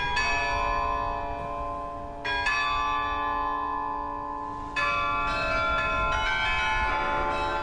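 Carillon bells high atop the historic Plummer Building in downtown Rochester ring out in a concert, several long ringing strikes with bright overtones that sustain and overlap, new notes entering at intervals, loud and clear with no voices.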